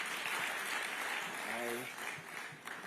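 A crowd at an ActionAid anti-corruption event claps in a steady, even wash of applause, with a brief voice rising through it partway along before the clapping thins toward the end.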